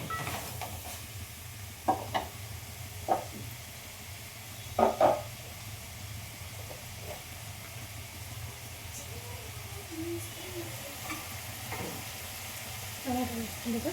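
Chicken curry sizzles and fries in a pan as tomato goes in, with a steady hiss under occasional sharp clinks and scrapes of stirring.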